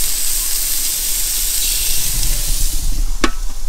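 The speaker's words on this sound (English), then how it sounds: "So got little steaks going here," Prime rib steaks sizzle and fry in a pan at a campsite in Charleston Lake Provincial Park, Ontario, giving a steady close hiss with a brief sharp crackle near the end.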